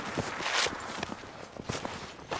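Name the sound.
footsteps in video game Redsec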